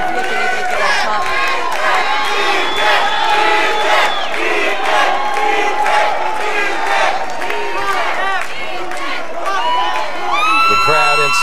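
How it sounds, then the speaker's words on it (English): At a PFC mixed martial arts fight in the Northwest Arkansas Convention Center, the crowd chants and roars for fighter Ethan King in loud rhythmic waves, with commentators' voices mixed in. "The crowd inside the Northwest Arkansas Convention Center chanting for Ethan."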